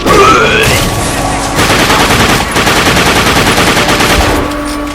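Rapid automatic gunfire in the video game The Darkness II, loud sustained bursts with a brief break near the middle, plus a faint overlapping voice early on.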